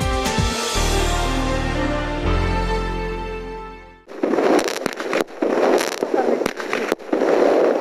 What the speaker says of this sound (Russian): При виде салюта многие из нас поднимают голову в небо